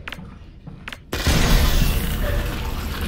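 A grenade blast in the Half-Life: Alyx video game goes off with a sudden loud boom about a second in. A dense, roaring wash of debris and rumble follows and lingers to the end, with a few faint clicks before it.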